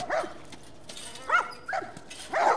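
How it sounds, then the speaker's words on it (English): Dogs bark and yip in The Last of Us video game, several sharp, fairly loud barks spaced irregularly over a quiet background, with no talking. "Oh, puppy dogs."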